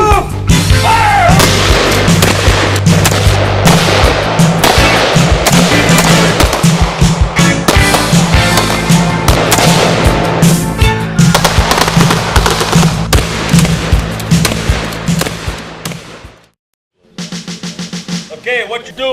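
Gunshots ring out at a shooting range in a rapid, dense barrage of loud, close cracks that continues for about sixteen seconds. A few more scattered shots follow a short pause.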